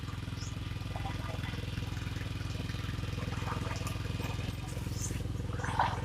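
A small engine driving a water pump runs steadily nearby, its even low putter continuing throughout with faint outdoor sounds over it.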